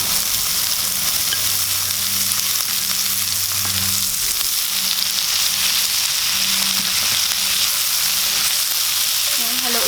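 Previously boiled squid fries in a pan for a spicy squid and spinach dish, giving a loud, steady sizzle with a faint intermittent low hum underneath.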